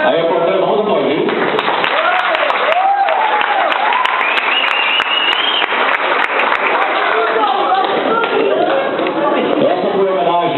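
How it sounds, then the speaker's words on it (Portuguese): Guests applaud at a 15th birthday party, with steady clapping running throughout beneath loud voices and singing or cheering close by. "Aí, vamos aplaudir."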